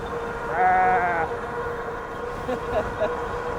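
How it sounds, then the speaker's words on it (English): A single sheep bleats once, a wavering cry over a steady e-bike motor hum, with a couple of faint higher calls following later. "Look at the sheep."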